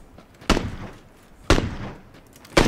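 Three booming gunshots from the video game PUBG land about a second apart, each a sharp, heavy report with a lingering, echoing tail, with no speech over them.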